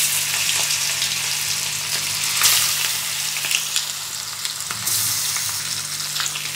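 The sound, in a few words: marinated mutton added to fried whole spices, sizzling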